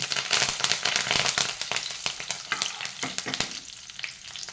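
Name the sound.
dry red chillies and curry leaves frying in hot oil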